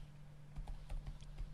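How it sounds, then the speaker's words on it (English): Fast, irregular typing on a computer keyboard, quiet and close, with short bursts of key clicks and no talking. "I'm typing in here."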